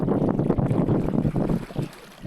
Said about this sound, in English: That wind is really starting to blow now.